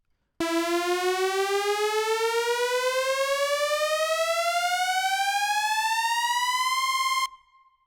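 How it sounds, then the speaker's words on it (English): A siren-like patch called Synthrise on a Nord Stage 3 Compact 73, played as one slowly rising, slightly detuned synth tone that climbs steadily for about seven seconds, loud and sustained before cutting off abruptly. "There's this siren sound almost, and I was trying to build it in here, and I finally got the sound that I was looking for."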